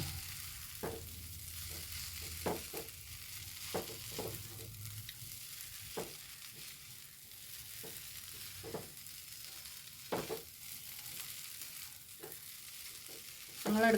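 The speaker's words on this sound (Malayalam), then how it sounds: "ഒന്ന് സ്പൂൺ വെച്ചിട്ട് അങ്ങനെ ഇളക്കി കൊടുക്കാം" Food sizzles steadily in a pan while a spoon scrapes and taps at irregular intervals, the stirring clicks sharp against the constant frying hiss, as kothu chapati is stir-fried.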